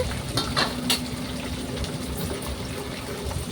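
Mustard seeds and asafoetida tempering in hot oil for pulihora, giving a steady close sizzle with a few sharp crackles and pops near the start and no voices.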